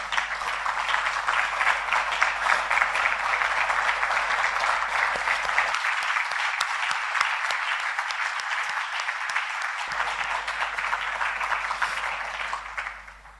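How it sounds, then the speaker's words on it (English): A large audience at a household worker awards ceremony gives a long, dense standing round of applause, a sustained wash of many hands clapping steadily before tapering off at the end. "I want you all to really stand and give them a big,"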